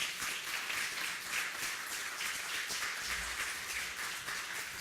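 Fairly faint, steady applause from a gathered audience at a press Q&A session as a guest is brought up, an even crackle of many hands without pause.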